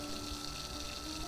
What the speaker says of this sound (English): the water pump is going, coolant pump rather, and the fuel pump is ticking away